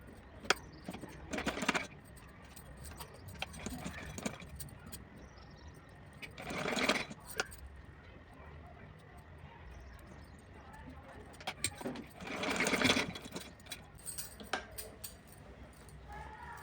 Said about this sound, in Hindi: पलटने के बाद इसके ऊपर मैं सिलाई लगाऊंगी